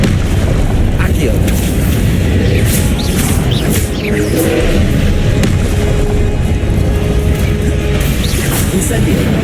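Deep booming spell blasts, including Confringo, thud and explode repeatedly in the Hogwarts Legacy video game, layered over dense combat noise and a steady low rumble.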